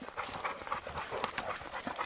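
Hunting hounds pant rapidly and close by after a bear hunt, with quick rhythmic breaths overlapping one another and a few faint whimpers mixed in.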